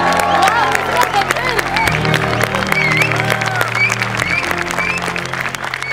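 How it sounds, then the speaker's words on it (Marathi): A studio audience at a Marathi comedy show breaks into loud applause and cheering, with dense clapping and crowd babble, and voices carry over it throughout. "जोरात टाळ्या."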